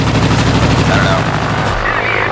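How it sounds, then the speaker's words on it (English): Dense, loud, unbroken rapid gunfire rattles from aircraft in the aerial combat game World of Warplanes, a continuous machine-gun stream with no pauses. "I'm getting shot at here."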